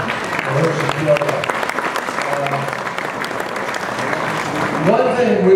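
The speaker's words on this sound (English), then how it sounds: "A big applause for Hershey Kyoga." Audience applause at a July 4th 2016 reception honoring a retiring ambassador, steady dense clapping throughout with voices murmuring underneath and a few louder cheers near the end.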